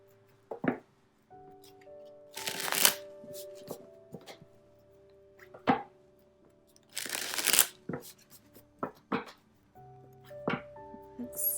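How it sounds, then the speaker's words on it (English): Tarot cards being shuffled in a few short, crisp riffling bursts separated by pauses, close and fairly quiet, with soft background music between them. "Give it a few more shuffles here."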